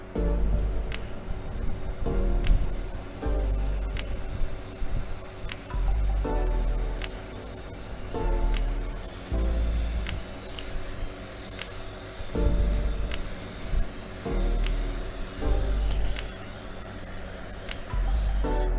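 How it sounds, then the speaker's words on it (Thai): An airbrush with a fully filled paint tank sprays paint onto a PlayStation 5 console shell, giving a steady hiss in repeated bursts of several seconds, with low mechanical thumps and background clatter between passes. "มันต้องพ่นเยอะแน่ๆเดี๋ยวลองพ่นดูก่อนนะ"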